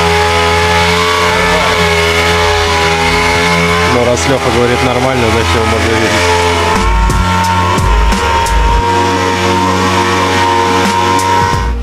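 A machine polisher works the sanded paint of a BMW e46 318i, a loud, steady motor drone whose pitch wavers as it presses and shifts, running continuously under someone talking.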